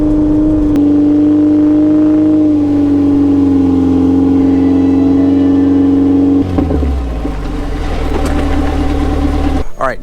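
A Suzuki Samurai engine with aftermarket header, catalytic converter and muffler holds a steady, droning high idle with a strong harmonic tone, then drops and rises again as it is revved toward 3,000 rpm; loud and close.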